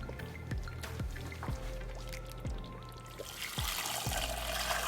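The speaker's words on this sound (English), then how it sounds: "I'm going to rinse my pot and then add the water to the soup" Hot water poured from a rinsed pot into peanut butter soup with tomatoes and onions, heard as a close, steady splashing pour broken by repeated sloshing glugs and drips.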